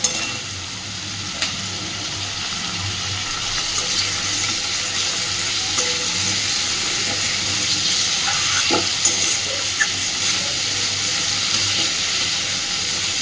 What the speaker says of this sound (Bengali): খুব বেশিক্ষণ এইটাকে লাল করে ভাজবো না, মিনিট 2 হালকা করে একটু এগুলো সব ভেজে নেব